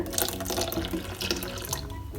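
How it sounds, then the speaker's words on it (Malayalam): Water is poured into a ragi and green gram batter, a continuous close splashing flow with no talking. "ഇനി നമുക്കിതിലേക്ക് മിക്സി കഴുകിയ വെള്ളം കൂടി ചേർക്കാം"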